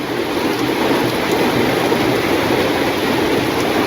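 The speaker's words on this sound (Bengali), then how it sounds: "ভালো বৃষ্টি নামছে" Heavy rain falls in a constant loud wash, a thick unbroken roar of drops on surfaces nearby with no voices, steady from start to finish.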